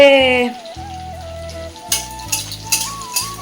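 A Bengali tempering of black cumin, onion, garlic and chili sizzling in hot oil. Soft frying crackle sits under tonal music, and there are a few brief stirring clatters.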